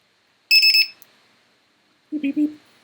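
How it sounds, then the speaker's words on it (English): A small indoor flying craft gives off electronic beeps: a quick burst of shrill high-pitched tones, then silence, then a lower three-step beep pattern. "Beep, beep, beep."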